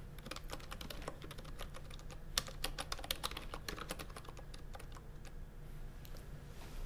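Rapid typing on a computer keyboard while entering a recording title, a steady run of close, crisp key clicks with a few louder strikes, heard alone against a faint low hum.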